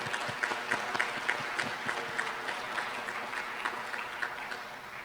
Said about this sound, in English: We'll have a round of applause for Jay.